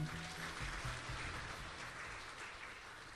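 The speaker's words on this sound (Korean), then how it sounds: "다시 한번 큰 박수 부탁드립니다." Audience applause at an intellectual property conference in Korea after an opening address, a steady, moderately loud wash of clapping that fills the whole stretch without voices.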